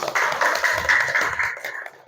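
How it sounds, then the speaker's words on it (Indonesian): Classroom applause for a student presenter, a small group clapping in a rapid uneven patter, fairly close and fading toward the end. "Tepuk tangan untuk Atila."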